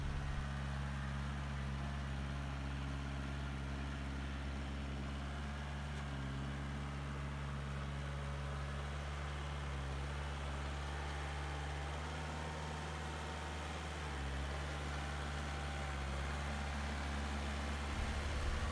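A Mahindra tractor engine idles in a steady, unbroken low drone with a constant pulsing hum, close and even in loudness from start to finish, with no voices.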